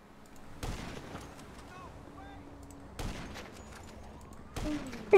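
Gunfire in the video game GTA: a few isolated sharp shots spaced a second or two apart over a low game background, with a louder burst at the end.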